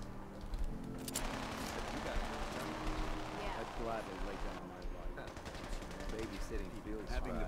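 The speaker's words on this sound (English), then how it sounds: "Whoa, gunshots." Gunfire in Fallout 4 crackles as bursts of rapid shots against a dense battle din, mid-distance and continuous, while someone talks over it.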